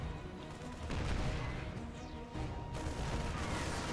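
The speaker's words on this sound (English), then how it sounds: "We do have a big gateway explosion." A big Protoss gateway explodes in a StarCraft match amid ongoing battle, dense crackling blasts and rumbling booms layered over continuous gunfire, loud and busy for a few seconds without speech.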